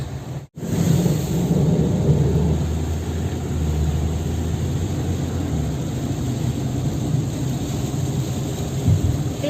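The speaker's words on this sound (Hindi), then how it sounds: "तेज हो गई दोबारा बारिश।" Heavy rain pours steadily on a street in Muscat, Oman, as a loud continuous roar with low rumbling like thunder beneath it and no speech.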